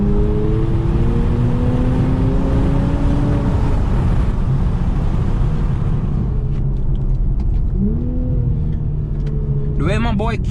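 A manual Infiniti Q50 with a VR30 engine revs hard while drifting, with rising and falling engine tones over a loud constant roar and sharp tire squeals near the end. A voice talks over it.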